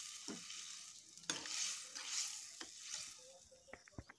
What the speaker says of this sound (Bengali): এখন দিয়ে দেবো পুঁই কুমড়ো।